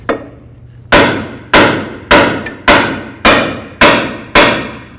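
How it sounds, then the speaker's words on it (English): Seven sharp hammer blows ring out at a steady rhythm, each a loud clang striking a 2009-13 Mazda 3 steering knuckle to separate the ball joint, with a faint hum between hits. "Continuing on with our hammer, let's hit right along here and separate the ball joint from the knuckle."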